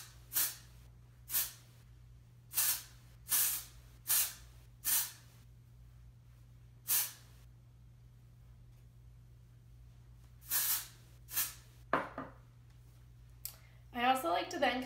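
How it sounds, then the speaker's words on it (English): Ouai texture spray misted onto hair strands in short bursts, about ten sharp hissing sprays spaced irregularly, each brief and close, over a low steady hum, with a rustle of handling near the end. "I'm going to go in with my Ouai hair care texture spray"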